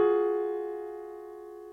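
A sustained triad chord built from a half-tone step and a whole-tone step, held as one steady, slowly fading tone after a soft attack, quiet and alone.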